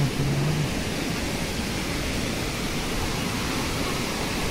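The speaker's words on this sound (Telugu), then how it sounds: "సో ఇది ఒక చిన్న వాగు అనమాట." A small monsoon stream on a trek near Kalu Waterfall in Malshej Ghat rushes steadily, a dense, even wash of flowing water close by throughout.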